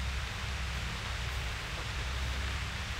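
Steady rain falls as a dense, even hiss of broadband noise, constant and unbroken with no voices over it.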